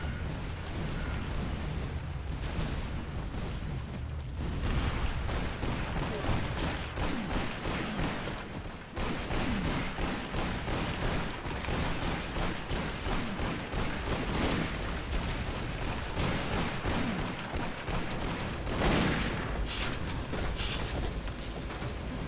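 Rapid, continuous gunfire and blasts in the arena shooter Toxikk, a dense, loud barrage of shots and explosions with no pauses.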